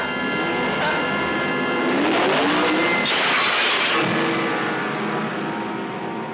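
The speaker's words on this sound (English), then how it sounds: "I think I hear the engine of that car" A car engine droning continuously, a rumbling motor sound that swells slightly in the middle as it revs, fairly close and steady throughout with no talk.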